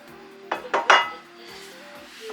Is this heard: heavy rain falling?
no